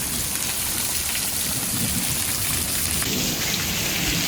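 Heavy rain pours down in a dense, constant hiss close by, with a low rumble underneath and a slight shift in the wash partway through.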